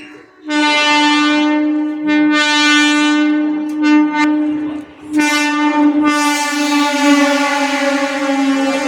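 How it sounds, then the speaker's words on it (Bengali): A loud, sustained horn from an approaching train blares in long tonal blasts with brief breaks, close and dominant, with rail rumble underneath. "শোনো আবার ট্রেন আসছে দেখ"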